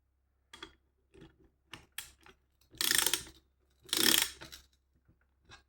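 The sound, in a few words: wrench ratcheting while tightening 80cc moped engine bolts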